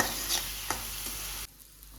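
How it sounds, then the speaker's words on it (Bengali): Potatoes dropped into hot oil with spices for a prawn and potato curry sizzle loudly and steadily, with a stirring scrape, then the frying noise cuts off abruptly partway through. "মশলাগুলো তেল ছাড়ো, এরপরে আলুগুলো দিয়ে দিই।"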